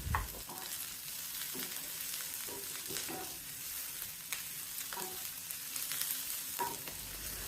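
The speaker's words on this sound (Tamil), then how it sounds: "அடிக்கடி கிளறி விட்டுட்டே இருக்கணும், அப்போ தான் வெங்காயம் நல்லா ஈவனாக வதங்கி வரும்." Onions for a spicy onion chutney sizzle quietly in a pan at medium heat, with a steady soft frying hiss and repeated scraping stirs at irregular intervals throughout.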